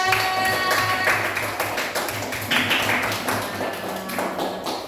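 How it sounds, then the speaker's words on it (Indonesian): Classroom audience clapping for a student group after a traditional dance presentation, a dense scatter of close, sharp claps running steadily with a faint background hum. "Tepuk tangan untuk kelompok 3"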